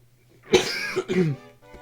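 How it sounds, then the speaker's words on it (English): A few short, close coughs from one person, with a throat-clearing quality, in an otherwise quiet room. "Apologize for the coughing."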